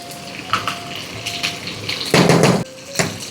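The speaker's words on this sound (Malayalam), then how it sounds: "എന്നിട്ട് ഇതിലേക്ക് ഞാൻ കുറച്ച് വെള്ളം കൂടെ ഒഴിക്കും." Water poured into a cooking pot during home dinner preparation of a Kerala curry, a steady gushing pour near the microphone lasting about half a second, with small kitchen clatters before and after.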